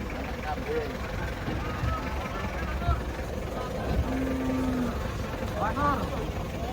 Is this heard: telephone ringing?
no